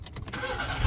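A car with a dead battery cranks and catches on a portable jump starter, a short burst of starter churning rising into a low rumble, close and fairly loud.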